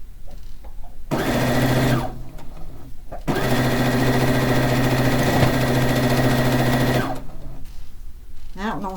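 A sewing machine runs in two sustained bursts, the longer lasting about four seconds, stitching fabric pieces for a fish quilt, with a steady mechanical hum and quieter pauses between runs.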